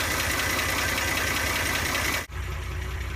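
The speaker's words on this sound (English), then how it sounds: "the idle did drop down, but the engine's still running pretty nice and smooth" A Wolseley car engine idles with a steady, smooth mid-range hum and slight knock, close and continuous, before cutting to a quieter background.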